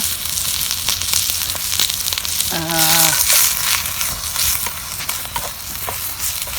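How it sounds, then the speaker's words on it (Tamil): Chopped onions hit a hot pan and fry, a loud dense sizzle that swells midway with a brief metallic scrape and clatter, then settles into steady frying with light crackles. "வெட்டி வச்ச வெங்காயத்தை போடுறேன் வெட்டி வச்ச வெங்காயத்தை போட்டு"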